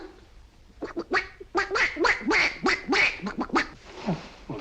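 A man imitates a duck with his voice, giving a lively run of about a dozen nasal quacks in quick, uneven succession, close and fairly loud, with no other talk.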